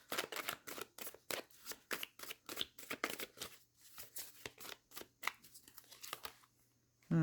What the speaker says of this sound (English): Shuffle these cards just a little better.